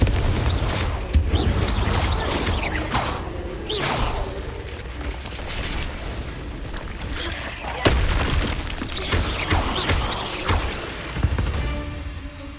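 Confringo explosive spells cast in the Hogwarts Legacy video game, several sharp blasts and whooshing bursts spread across a busy combat soundscape, with one strong crack near the middle and a voice casting spells in between.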